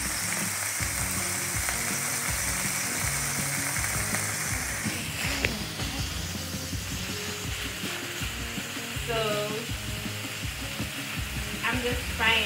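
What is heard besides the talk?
chicken frying in a pan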